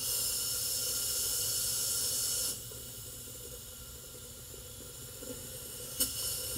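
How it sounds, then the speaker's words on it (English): A compressed air blowgun hooked to a compressor hisses loudly into a car A/C line at an expansion valve, a steady broadband rush for about two and a half seconds, then cuts off, leaving a quieter background with a brief click near the end. "just regular old blowgun hooked up to your compressor"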